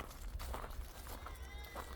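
Sheep bleat faintly while being herded toward a barn. Brief calls come through scuffling steps and outdoor background noise, and a person's voice can be heard nearby.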